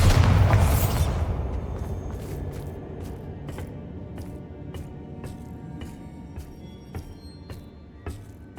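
A Bombarda explosion spell goes off in Hogwarts Legacy, a loud close boom with a bright burst that decays into rumbling debris, followed by a series of sharp clattering ticks and small pops fading out.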